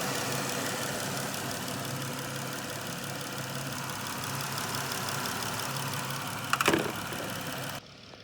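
A Dodge Challenger SXT engine idles at running temperature after a thermostat swap with a steady, low, even rumble, joined by a brief clatter near the end before the sound cuts off.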